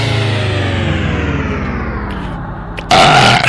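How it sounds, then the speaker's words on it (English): A long, loud, deep burp that rumbles steadily for nearly three seconds and slowly drops in pitch, then a sudden burst of harsher noise cuts in at the end. "That was that burp from last night."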